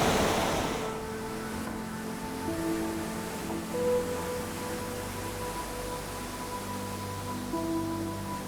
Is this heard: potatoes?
no